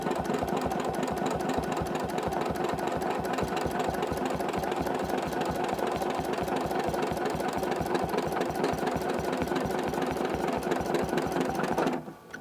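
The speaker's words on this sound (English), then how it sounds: "You're going to do a little bit of free motion quilting slowly along the edge that you've already stitched." A domestic sewing machine runs steadily during free motion quilting of circles with rulers, a fast even mechanical needle rhythm with motor hum, close and continuous before stopping abruptly at the end.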